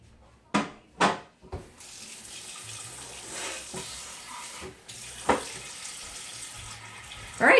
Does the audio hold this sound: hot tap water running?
yes